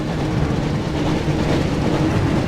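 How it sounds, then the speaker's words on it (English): The Hogwarts Express train in the PS1 Harry Potter and the Chamber of Secrets game: a loud, steady rumble of rail noise with a low engine drone, continuous and close throughout. "Looks like we found the train, Ron."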